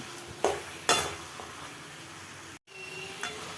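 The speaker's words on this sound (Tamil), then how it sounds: "நல்லா மிக்ஸ் பண்ணி விட்டுக்கலாம்." Chicken with chili powder, coriander powder and salt sizzles steadily in a pan for Chettinad chicken gravy, with a few sharp stirring scrapes over the continuous frying hiss.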